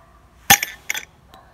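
A beer bottle opened with a Cap Boom novelty bottle opener: a sharp glassy clink and snap, a second softer clink a moment later, then a faint tick, all brief and close.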